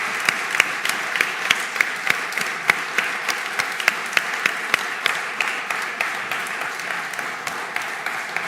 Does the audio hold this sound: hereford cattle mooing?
no